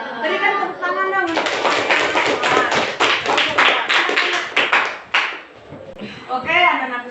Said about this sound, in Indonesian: Berikan tepuk tangan dong.